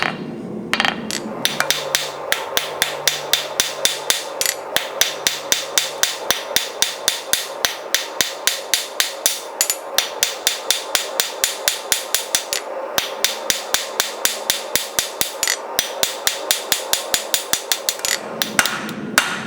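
A blacksmith hammers a short sharp taper on two sides of a forged leaf, rapid ringing blows in a steady rhythm with brief pauses, loud and close, with no talk.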